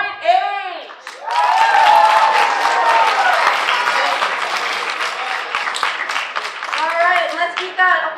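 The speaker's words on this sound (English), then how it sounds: "let's keep that applause going" Audience applause at a school poetry slam, a loud burst of clapping from the crowd that holds steady for several seconds, with a voice speaking at the start and again near the end.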